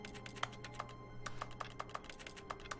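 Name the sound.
keyboard sound in video game The Stanley Parable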